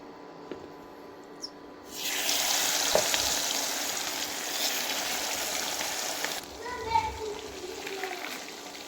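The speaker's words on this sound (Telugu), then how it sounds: "మ్యారినేట్ చేసి ఉంచుకున్న ఫిష్ని వేపుకుందామండి" Marinated fish dropped into hot oil, a sudden loud sizzle that bursts in, holds steady for several seconds, then cuts off, followed by brief talking.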